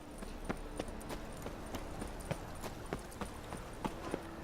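Horse hooves clip-clop at a steady trot in The Witcher 3, sharp rhythmic strikes at moderate distance over a constant low ambient bed, with no voices.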